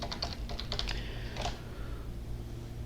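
A short burst of keystrokes on a computer keyboard while a formula is entered in an Excel spreadsheet, close and quiet clicks that fade into a soft hum.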